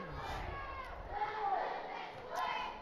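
Crowd noise at a boys' varsity high school basketball game in a gym, a faint, steady roar of many voices with swelling cheers.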